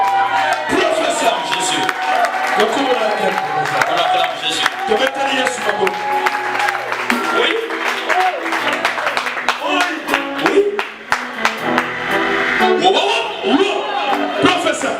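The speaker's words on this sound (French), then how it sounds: "On acclame Jésus." A church congregation at a Christian worship celebration cheers and claps in loud, continuous acclaim, with shouts and whoops over steady applause and voices throughout.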